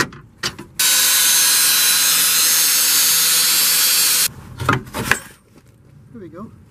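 Power saw slicing through a sway bar end link during a stabilizer link replacement, a loud steady three-and-a-half-second cut preceded and followed by metallic clanks and tool handling.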